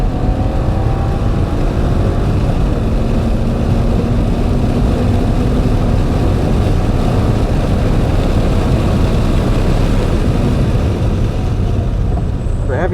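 A 2001 BMW Z3 Coupe with a five-speed gearbox pulls in third gear, its engine droning loud and steady under heavy road and wind noise, with a faint rising tone as revs build.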